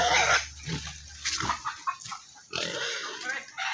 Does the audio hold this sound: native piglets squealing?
yes